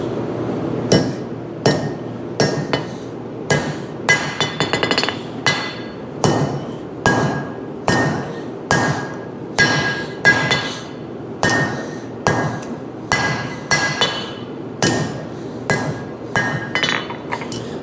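A hammer strikes hot steel while forging a honesuki knife blade, loud ringing metallic blows landing in a steady rhythm, close and alone without talk.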